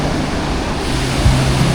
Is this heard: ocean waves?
yes